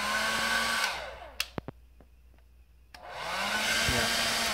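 A Vidal Sassoon 1875 hair dryer motor roars loudly, winds down into near silence broken by a few sharp clicks, then whirs back up to full speed, with no one talking.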